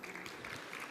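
A brief stretch of steady applause from a seminar audience welcoming a speaker, dense clapping at a constant level with no voices on top.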